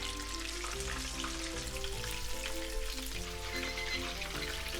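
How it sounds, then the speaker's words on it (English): Chicken karaage pieces deep frying in oil at low temperature for Japanese home cooking, a steady dense crackle and sizzle running throughout at moderate level, with a low hum underneath and no talking. "Then we're gonna fry like this in low temperature for about 3 to 4 minutes or so."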